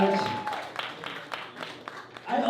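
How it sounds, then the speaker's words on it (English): An audience claps for ICC Delaware's Clippan dance. The short burst of applause is mixed with voices that talk over it. "please a round of applause of ICC Delaware for their Clippan dance"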